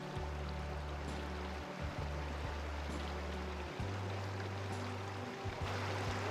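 A stream flows beside a short, easy hiking path in Iceland, a steady close rush of running water, continuous and fairly loud throughout, with low hum underneath.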